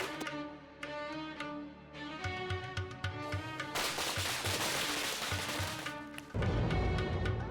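Firecrackers burst in a rapid, dense crackling volley that sits in the middle of a loud music bed, with sharp popping bangs mixed into the noise.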